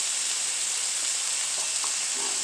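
Garlic and ginger are sautéed over high heat, producing an even, dense sizzle that stays constant throughout, with a couple of faint pops and stirring touches barely rising above the hiss.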